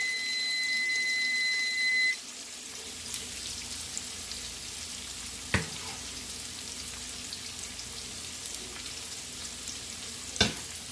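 Garlic sizzles in a pan with chorizo for a shrimp and chorizo paella, a soft steady frying hiss broken by a few sharp clicks of a utensil.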